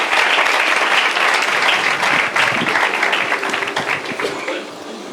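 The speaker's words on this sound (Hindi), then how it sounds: "जितनी तालियां आपने मुझे नाचीज़ के लिए बजाई" A church congregation at a Sunday service bursts into loud, sustained applause to welcome the speaker, a dense wash of clapping that fades slightly toward the end.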